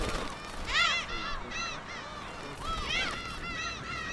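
Black-tailed gulls call at a nesting colony on Dokdo, sending out loud, drawn-out mewing and honking cries in short overlapping bursts against a background of wind and surf.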